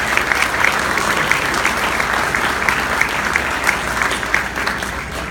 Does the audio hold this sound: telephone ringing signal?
no